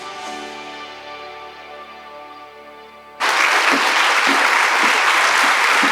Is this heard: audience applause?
yes